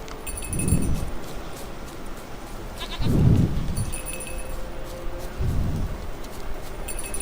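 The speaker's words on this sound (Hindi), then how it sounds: "गजब मिशन है यार। बकरी भी बांध नहीं रही।" Goat bleats in The Witcher 3 video game, three drawn-out calls a couple of seconds apart over steady outdoor ambience with faint jingling.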